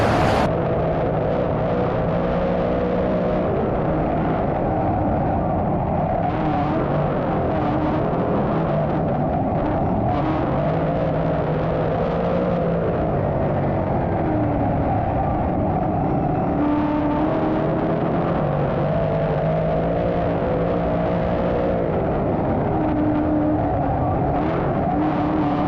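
Race cars circle a dirt speedway, their engines roaring loud and continuous as they pass, accelerate and slide through the corners, with no voices over them.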